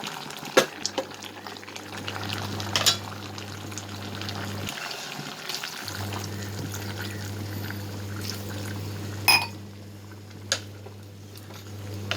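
Water pours steadily into a pressure cooker of country chicken curry in a continuous splashing stream, with a low hum underneath and a couple of brief clanks.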